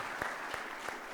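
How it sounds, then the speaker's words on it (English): Audience at a big data panel discussion applauds, a dense steady clatter of many hands with a few sharper claps standing out, brief and moderately loud. "Please, let's give them a great round of applause."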